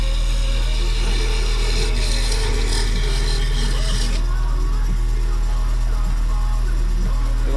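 A hacksaw blade saws through the leftover wood holding a turned wooden bowl, a few seconds of raspy back-and-forth strokes over a constant loud low hum, before the cutting stops and the hum carries on.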